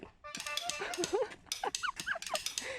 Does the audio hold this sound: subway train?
no